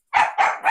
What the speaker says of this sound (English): as you can hear, we're having a dog interruption